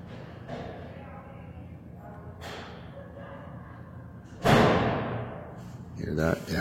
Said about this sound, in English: They have to bang doors and make noise and laugh, and it's a charade.